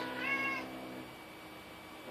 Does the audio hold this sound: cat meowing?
yes